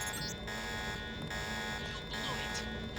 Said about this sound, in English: The alarm just closed the north door.